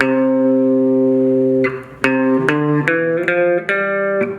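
A sustained guitar note, then a series of hard-picked notes with sharp, bright twangy attacks in a slow, uneven sequence, played alone and up close.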